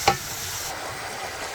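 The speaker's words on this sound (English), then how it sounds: "this is the best time to pour in my pepper mix" Pepper mix is poured into tomato paste frying in a pot, starting with a sharp clink followed by a steady, close sizzle and stirring hiss with no talking.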